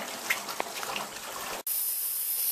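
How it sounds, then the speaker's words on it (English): Steady rush of water draining out of a pool filter during backwash, a broad hiss that cuts off abruptly and shifts into a thinner, higher hissing flow. "allow water to drain out"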